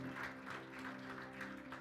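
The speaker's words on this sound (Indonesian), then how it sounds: "Makanya saya kasih tepuk tangan buat Tuhan" A church congregation claps for God during a Sunday worship service, a steady dense wash of applause filling the room for under two seconds, moderately loud with no voices over it.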